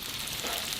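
Bacon and sausage sizzle in a frying pan, a close, even crackle of hot fat that runs without pause through a short moment.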